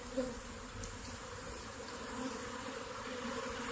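A swarm of honeybees, poured from a box into a hive, hums continuously in a soft, steady drone, fairly close but quiet, with no talking.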